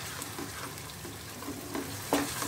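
Spice powders stirred into onions in a pan for chicken kofta curry, giving a steady soft scraping and low sizzle with a few sharper spoon knocks, close and alone.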